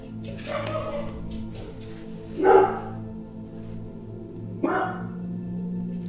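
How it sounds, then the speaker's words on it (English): Dogs barking indoors: a few scattered barks in short bursts, the two loudest about two seconds apart, over a low background hum. "my dogs started going nuts with this hiding energy. As soon as I said that, they started barking."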